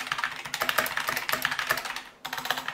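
Rapid typing on an RGB computer keyboard, dense clicky keystrokes in quick bursts with a brief pause before resuming, close and clear with no talk.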